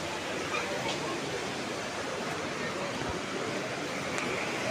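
Water rushing through the channel of a hydropower house, a steady, dense, loud roar that holds at one level throughout with no pauses.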